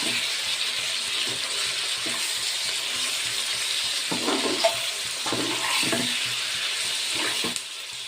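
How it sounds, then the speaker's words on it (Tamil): Tomatoes, four of them, sautéing in a pan for a Chettinad pirandai kuzhambu, giving a steady close sizzle with intermittent scraping and stirring knocks throughout, no voices. "இப்போ தக்காளி போட்டுடலாம். 4 தக்காளி போட்டிருக்கேன். இதையும் நல்லா வதக்கணும்."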